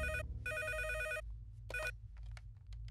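A telephone rings in a Hindi-dubbed action movie scene, two bright electronic trills in quick succession followed by a shorter burst, loud and clear over a low steady hum, with no voices.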